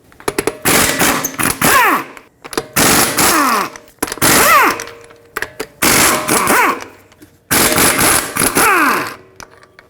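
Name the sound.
removing lug bolts with a 17mm socket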